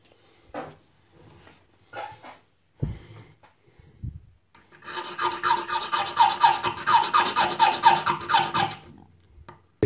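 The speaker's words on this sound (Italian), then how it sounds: "Dovremo per cui limare ancora un pochino, ma stavolta sul bordo finale." A file rasps against an aluminium gun sight in steady, rhythmic back-and-forth strokes, loud and close, after a few separate knocks and handling sounds.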